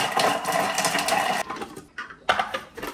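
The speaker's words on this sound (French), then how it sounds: "Et ensuite, on va venir les mixer." A Thermomix blends garlic cloves with a steady, fairly loud whirring motor for over a second. It then cuts out, and short bursts of blending follow.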